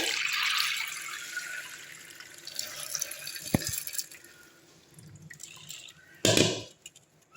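Water trickles and drains quietly through a cotton cloth in a strainer, fading in and out with a few soft drips, then a short louder splash of pouring near the end.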